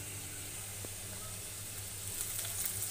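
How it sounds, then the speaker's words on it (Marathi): Finely chopped potatoes sizzle in hot oil for sabudana khichdi, a faint, steady frying hiss with a light crackle, heard quietly over a low background hum. "आता आपण हे बारीक चॉप केलेला बटाटा घालूया आणि बटाटा छान परतून घ्यायचा गोल्डन ब्राऊन रंगावर"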